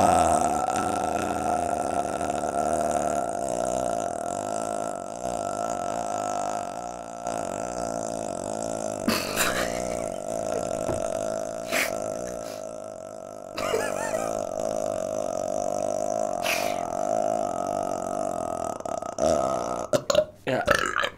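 A single, very long burp from a burping contest with a national champion, drawn out as a low, continuous, loud croak for about twenty seconds, with a few brief breaks and wet catches.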